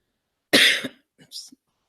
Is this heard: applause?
no